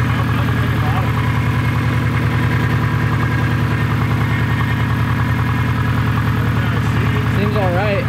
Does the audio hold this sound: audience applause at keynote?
no